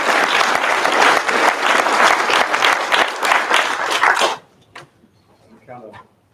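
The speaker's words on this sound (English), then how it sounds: "Again, give yourselves a round of applause." A graduation and signing-ceremony crowd bursts into loud, dense applause close by, with a dog barking amid the clapping, before it cuts off abruptly and leaves faint scattered sounds.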